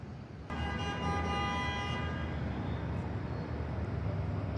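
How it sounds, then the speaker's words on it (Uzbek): A car horn blares for about one and a half seconds on a busy New York City street, then traffic rumble carries on, moderately distant amid steady roadway noise. "Shunaqa signal ham berishadi-da New Yorkda"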